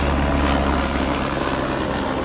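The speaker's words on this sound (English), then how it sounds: "We had to stop on the helicopter." Helicopter flying overhead, a steady loud rotor drone with low throbbing and broad engine noise sustained throughout, with no voices.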